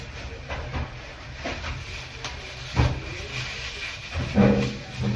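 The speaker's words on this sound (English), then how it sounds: "we're steaming the hair follicles" A hair steamer hisses steadily through a batana oil hair-growth treatment, a constant airy rush with a few soft bumps and clicks near the end and no talking.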